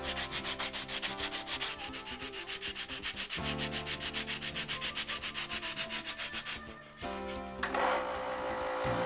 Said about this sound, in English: Using a 150 grit sandpaper block, carefully sand to the finished dimensions.